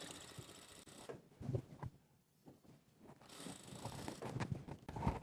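A sewing machine stitching a bolster pillow cover, heard as soft, quiet mechanical whirring and ticking in short bursts, with a brief pause in the middle.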